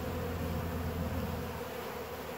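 Swarm of honey bees buzzing steadily around a hive during a robbing frenzy, a dense continuous drone at moderate distance with no voices.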